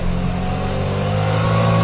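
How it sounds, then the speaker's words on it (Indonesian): An old motorcycle engine hums steadily and fairly loud on a night road in a brief, unbroken stretch, with no clear sputter. "aku merasa motor bapak ini seperti tersendat-sendat"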